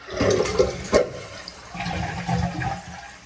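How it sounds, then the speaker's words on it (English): A toilet is test-flushed after its fill valve was replaced: a close rushing flush, then water swirling and the tank starting to refill, with no talk over it. "let's give it a test flush"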